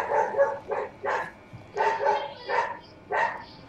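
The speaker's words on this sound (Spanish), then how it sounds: "Dios, con el perro del vecino." A neighbor's dog barking nearby, heard through a window: a run of about eight loud, evenly spaced barks in quick bursts, with short quiet gaps between them and no talking.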